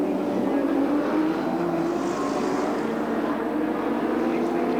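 Touring race cars of the 1986 Castrol 500 at Sandown Park roar past in a continuous loud drone of engines, with a commentator talking over it.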